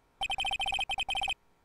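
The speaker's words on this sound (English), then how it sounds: "All of a sudden, the phone began to ring." A phone ringtone from the video game Ace Attorney: Justice For All, a bright electronic beeping in quick bursts of rapid tones separated by short gaps, loud and clear with no voices.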